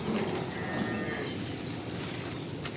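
A large pregnant cow gives a long, loud moo close by, with steady farmyard noise underneath.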